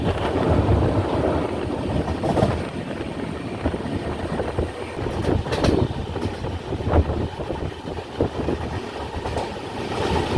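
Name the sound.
train crossing the bridge over the Kallada river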